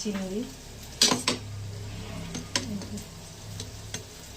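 Prawns simmering in a thick spiced curry are stirred in a metal pan, with a few sharp clinks of the spoon against the pan over a low, steady background hum.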